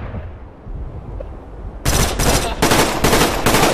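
Gunfire in Call of Duty: Black Ops during a search-and-destroy match, starting with a quiet stretch and then a loud run of about five close, evenly spaced shots.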